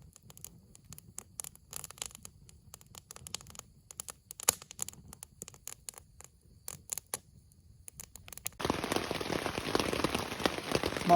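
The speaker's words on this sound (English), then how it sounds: "It's quite a heavy downpour." Rain patters irregularly on a taut tent surface at a campsite in Killarney, then abruptly swells into a dense, heavy downpour drumming steadily and close for the last few seconds.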